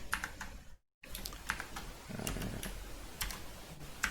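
Keys on a computer keyboard clack in quick, uneven bursts as a cell title is typed in Google Colab, with a brief gap of silence early on and no voices.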